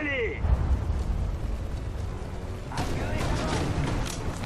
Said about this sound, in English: Smoke grenades trying to cover us here.